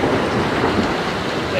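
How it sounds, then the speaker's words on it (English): Steady rain falls outdoors during a storm, a loud, even wash of hiss that carries on without a break and with no clear thunderclap. "It's raining."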